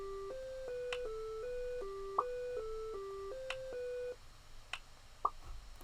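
Looping 8-bit chiptune background melody of stepped square-wave tones, with occasional sharp blips over the top, playing steadily without stopping before the texture thins near the end.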